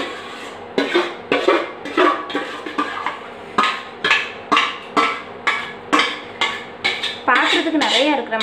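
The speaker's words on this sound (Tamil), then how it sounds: "இதை கிண்டி விட்டுட்டே இருக்கணும் நல்லா." Pumpkin halwa being stirred in ghee in a pan, a close series of regular scraping strokes from a utensil against the pan, roughly two per second, with no talk over them.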